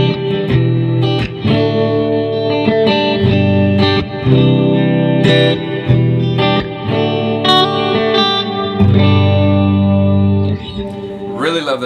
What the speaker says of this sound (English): I've got my rhythm channel, which is my Prism, and then a little bit of reverb with the Big Sky